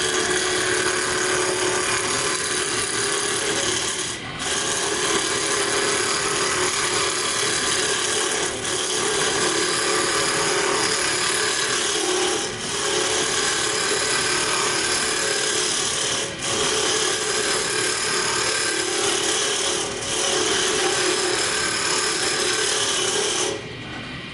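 A wood lathe spins a piece of wood as a hand tool lightly cuts back and forth, giving a steady, loud, continuous whirring and scraping drone with faint periodic dips.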